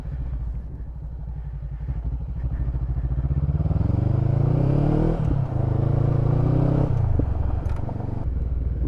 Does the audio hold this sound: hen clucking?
no